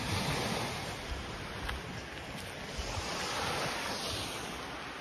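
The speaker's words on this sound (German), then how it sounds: "Das Schwarze Meer" Surf on the Black Sea coast in Bulgaria: a continuous wash of breaking waves mixed with wind buffeting the microphone, steady and fairly faint, with no voices.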